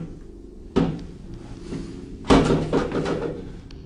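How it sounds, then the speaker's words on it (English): Two loud bangs echo in a hallway about a second and a half apart, each a sharp thud with a short resonant tail, heard alone over a quiet background. "later he hears regular banging noises in the hallway"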